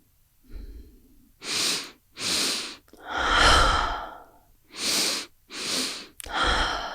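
A person doing a guided breathing exercise takes deep, slow breaths, with several long airy inhales and exhales in a steady rhythm, close and clear with no talking.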